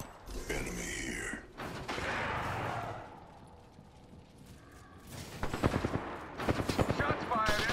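Video game gunfire, several rapid bursts of automatic shots, the heaviest near the end, with quieter mechanical clicks in between and a voice talking during parts of it.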